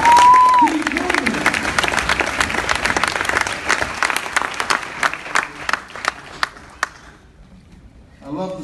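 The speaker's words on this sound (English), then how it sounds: "Give yourselves a round of applause." A live crowd at a speech event in Jamaica breaks into loud, dense applause after a short spoken line, clapping steadily before thinning out and fading toward the end.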